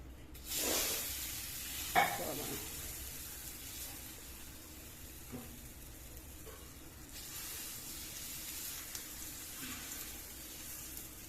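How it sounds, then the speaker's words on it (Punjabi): A ladle stirs gram flour (besan) in hot ghee, giving a soft steady sizzle and hiss with a few scraping clinks, fairly quiet and continuous throughout with no talk. "ਪਹਿਲਾਂ ਪਾਵਾਂਗੇ ਥੋੜਾ ਜਿਹਾ ਘਿਓ ਫਿਰ ਆਪਾਂ ਹਲਾ ਕੇ ਚੰਗੀ ਤਰ੍ਹਾਂ ਆਪਣਾ ਬੇਸਨ ਦਾ ਮਟੀਰੀਅਲ ਤੇ ਕੜਛੀ ਨਾਲ ਆਪਾਂ"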